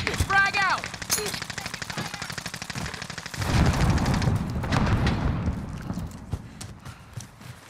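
Video game gunfire crackles in rapid bursts and single shots, with a heavier volley in the middle and scattered booms and effects over game sounds, loud and close.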